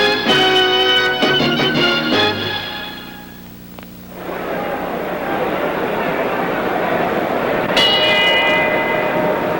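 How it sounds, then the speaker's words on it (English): A boxing ring bell rings for round 4 of a George Foreman vs Gregorio Peralta fight, a quick burst of loud ringing clangs at the start and another a few seconds later over a noisy arena crowd. "The bell for round 4"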